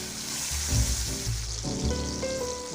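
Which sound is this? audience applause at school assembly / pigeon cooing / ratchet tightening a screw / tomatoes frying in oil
tomatoes frying in oil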